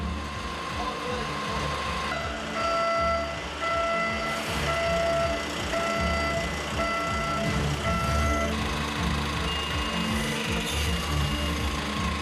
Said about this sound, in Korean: 집 아래 대차를 끼우고 지게차로 밀면서 이동을 시작합니다